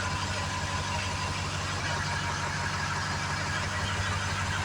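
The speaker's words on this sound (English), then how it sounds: "Might take a couple cranks at first to start up." A Ford F-350 Super Duty truck engine idles steadily with a low, even rumble and no break or talk throughout.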